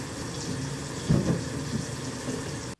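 Water from a running shower hisses steadily and evenly close by, with a couple of brief splashing thumps partway through before the sound cuts off abruptly.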